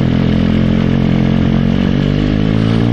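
A motorcycle engine held at a low, steady rev for a clutch biting-point exercise, its continuous rumble loud and close with a faint mechanical clatter, and no talking.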